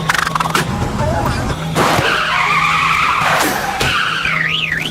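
An animated hyena's cart speeds wildly through the desert, tires skidding and squealing in long, loud screeches with swooping pitch, broken by sharp crashing hits and revving.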